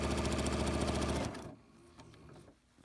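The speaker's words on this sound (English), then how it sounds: "Now I'm going to lock my stitch and just sew down the edge." A sewing machine stitches down the edge of a quilt with a fast, steady mechanical whir that runs loud for over a second, then cuts off abruptly, leaving quiet handling sounds.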